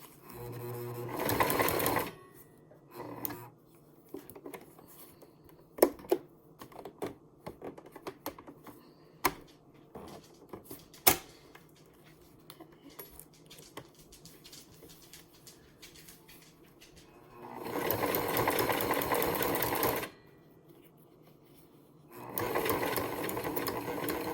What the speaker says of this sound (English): So, okay, so I'm gonna sew down the side of it.